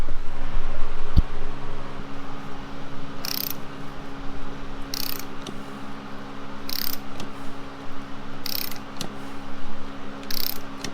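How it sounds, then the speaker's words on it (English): A ratchet tightens bolts on a wheel bearing press tool, with bursts of rapid clicking repeating every second or two over a steady mechanical hum, close and fairly quiet. "all you do is tighten the bolts and it presses it right in"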